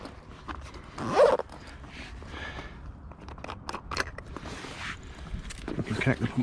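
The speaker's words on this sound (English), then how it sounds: "Zip it up." Zipper pulled shut on the fabric cover of an inflatable belly boat for pike fishing, a sharp rasping zip near the start followed by rustling, crinkling fabric handling and a second quicker zip toward the end, with a voice talking at moments.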